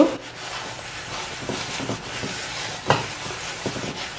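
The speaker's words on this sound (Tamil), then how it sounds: "ஆஃப் பண்ண அப்புறம் திருப்பி ஒருக்கா தேய்ச்சி விடுங்க" Someone rubs the surface of an appam pan while seasoning it after the stove has been switched off. Soft, repeated scraping and wiping strokes come from close by, with no one talking.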